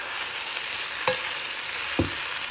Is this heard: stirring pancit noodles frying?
yes